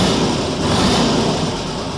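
Volkswagen Variant engine after ignition timing and advance adjustment, revving steadily with a dense, loud, continuous roar held close throughout and no voices.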